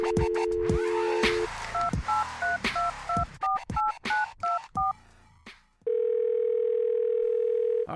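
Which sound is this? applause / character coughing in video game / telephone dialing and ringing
telephone dialing and ringing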